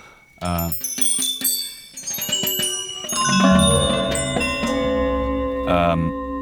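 A series of bells rings out one after another, bright metallic strikes with long shimmering tones that overlap and linger.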